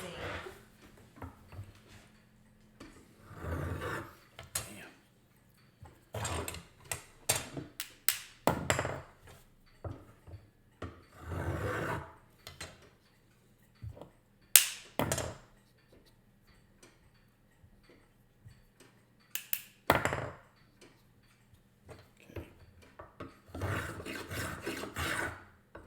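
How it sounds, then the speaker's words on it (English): A hand plane works the corner facets of a wooden violin bow stick, making short, scattered rasping strokes in uneven bursts with quiet gaps in between, close and fairly soft. "go ahead and start planing down these corner facets"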